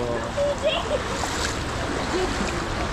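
River water rushes and splashes at Balagbag, a steady close wash of flowing water with a few faint voices over it.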